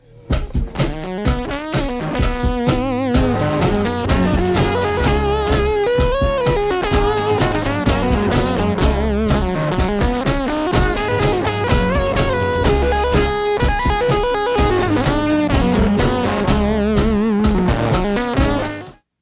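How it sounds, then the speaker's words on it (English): A full band vinyl recording led by a thick, buzzy fuzz-distorted guitar, playing steadily and loudly throughout without pause. "There's one track here that has this awesome fuzz guitar."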